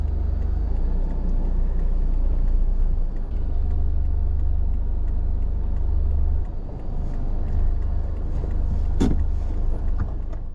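A car idles with a loud, steady engine rumble close by, settling into a parking spot under a roof at a seaside lodging in Bang Saray, Thailand; the drone drops and shifts partway through, ending with a sharp click.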